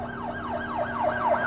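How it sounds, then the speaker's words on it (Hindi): A police siren wails in quick repeating up-and-down sweeps, about six cycles, steady and fairly near with no voices. "अचानक बाहर से पुलिस की गाड़ी की आवाज आती है।"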